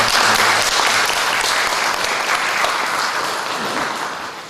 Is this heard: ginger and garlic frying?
no